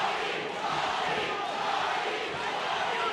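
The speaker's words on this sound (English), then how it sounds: "Look at the crowd is chanting" Boxing crowd at a Wednesday night fight between Torres and Cabrera in round eight, a dense sustained roar of many voices chanting together, steady and moderately loud throughout.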